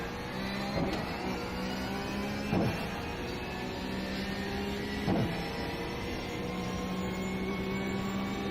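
Porsche iRacing Cup race car engine in iRacing at Snetterton, a steady loud drone with shifting tonal harmonics and three brief sharp bursts spaced through it, no voices.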